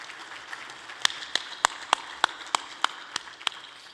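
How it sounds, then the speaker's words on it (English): Scattered, sparse claps from a luncheon audience, a handful of sharp distinct hand claps spaced irregularly over a quiet room hum rather than full applause. "So give yourself a round of applause,"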